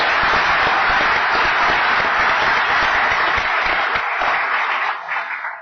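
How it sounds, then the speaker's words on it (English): A crowd at a county commission public meeting gives a loud, sustained round of applause that holds steady for several seconds, then tapers off quickly at the end. "One more round of applause for them."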